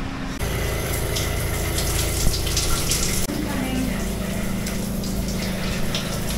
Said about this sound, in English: Now we're going to the shower again in here.